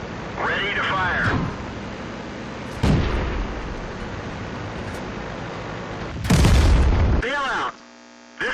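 Artillery shells hit a Valentine II tank in World of Tanks with several sharp, heavy booms, one near the start and a bigger blast late on, amid game noise and someone talking.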